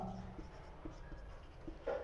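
Chalk or marker writing on a board in a classroom, faint scratchy strokes with a few soft taps, under a low room hum and brief murmurs.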